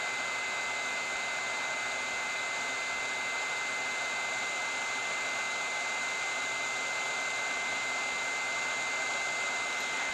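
Hot air reflow station blowing steadily at raised airflow during a soldering job, with an even, unbroken hiss like a hair dryer that holds constant for about ten seconds, close by and with no talking.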